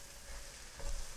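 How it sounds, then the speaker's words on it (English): Egg stirred in a hot pan for fried rice, a steady close sizzle with a brief scrape of the spatula near the end. "So we're going to give this one more mix."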